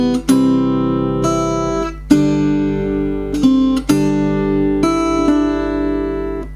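A solo guitar plays the opening two bars of Auld Lang Syne, sustained, ringing notes picked one after another with a steady low hum underneath, no talking.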